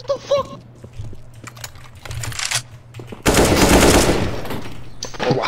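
Gunfire in a video game shootout, a few sharp shots early on followed by a loud sustained burst of rapid fire, with faint clicking and game sounds between.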